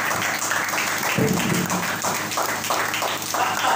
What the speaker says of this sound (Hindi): सुनैना जी के लिए जोरदार तालियां